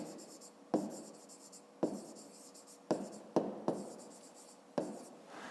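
Pen writing on paper while working a fifth-grade math exercise, heard as several separate pressed strokes with scratchy, rubbing tails, close and fairly quiet, with no talking.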